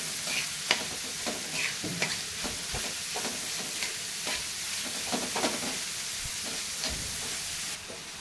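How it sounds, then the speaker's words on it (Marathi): Onion with crushed ginger and garlic sautéing in a pan for masala pav, a continuous hiss of frying with frequent spatula taps and scrapes as it is stirred, close and steady. "कांदा थोडा चांगला परतवून घ्यायचा आपल्याला।"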